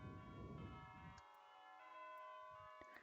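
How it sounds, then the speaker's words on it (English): Bells ring in the video game Overwatch, sustained metallic tones layered and fading under a low rumbling game background, quiet and faint overall. "there's bells"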